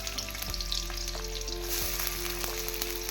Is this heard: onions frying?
yes